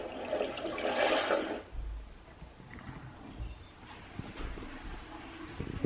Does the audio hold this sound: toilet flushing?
yes